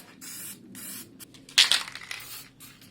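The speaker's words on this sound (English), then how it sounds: "I started off priming everything with etch primer." Etch primer hisses from an aerosol can in short bursts, several brief sprays with pauses between them, followed by a louder, sharper spurt near the end.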